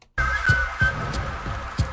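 A bright sustained whistle melody rides over the music of a Honkai: Star Rail character trailer, the whistled tone gliding above rhythmic low beats.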